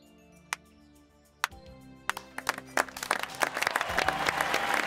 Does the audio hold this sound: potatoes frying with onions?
no